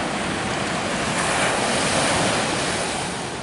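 Ocean waves wash steadily onto a beach shore after rain, a continuous loud roar of surf mixed with wind buffeting the microphone.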